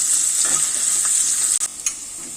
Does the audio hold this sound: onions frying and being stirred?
yes